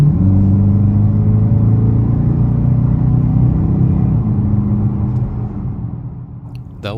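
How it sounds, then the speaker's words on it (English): A 2022 Dodge Challenger R/T at half throttle gives a steady, loud engine drone with low rumble that holds for about four seconds and then eases off, a faint whine rising near the end. "That was only half throttle"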